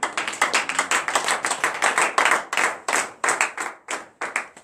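A congregation at a Saturday morning prayer service in Comè, Benin, claps in praise in quick rhythmic bursts, many hands striking together close by, the pattern briefly pausing and resuming without talk.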